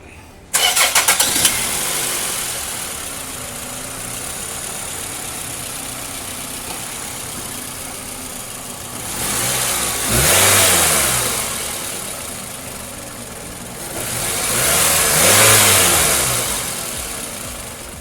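A second-generation Toyota Previa's 2.4L 2AZ-FE engine cranks and catches with a sharp start, settles into a steady idle, then revs up twice in long swelling blips, each rising and falling back to idle, close and loud with no talking.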